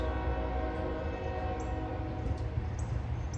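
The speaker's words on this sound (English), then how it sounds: "we got a train coming. There's a hobo over there and there's a train coming. I hear him." A CSX freight train approaches in Dalton, its horn sounding as a steady, sustained blare over a continuous low rumble of the moving train, fairly close and loud throughout.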